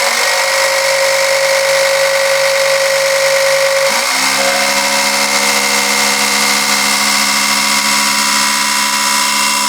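A Fiskars reel mower's blades are spun up at high speed, giving a loud, continuous whirring whine whose pitch drops and shifts partway through before holding steady.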